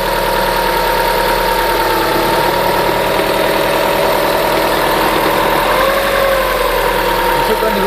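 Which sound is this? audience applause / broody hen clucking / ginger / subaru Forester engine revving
subaru Forester engine revving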